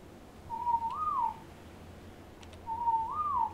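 A character whistles in the survival video game Ark, two clear rising-and-falling whistled notes about two seconds apart over a low ambient game background.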